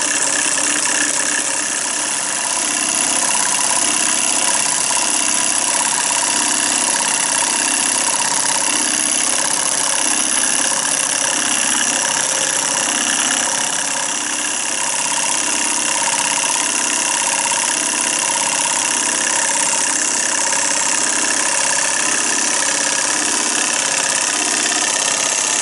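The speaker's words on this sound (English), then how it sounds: "it's an electric engine, not a steam engine, as the arcing commutator there" An Empire B33 solenoid electric model engine with an arcing commutator runs steadily, giving a continuous close buzzing mechanical hum with fast repeated pulses throughout, no voices.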